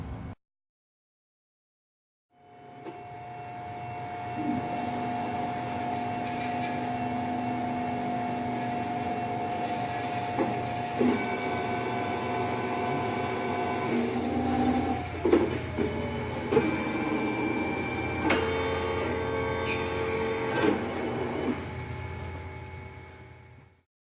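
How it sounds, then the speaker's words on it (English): CEREC AC dental milling unit milling a ceramic block for an onlay restoration: after a brief silence the motor starts into a steady whirring drone with a tonal whine, punctuated by intermittent clicks and clunks as the burs work. "we can simply hit start either from the screen or from the milling unit itself in order to begin the"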